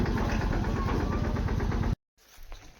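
A tractor engine idles on a farm with a steady, pulsing chug, then cuts out abruptly partway through, leaving only faint low background noise.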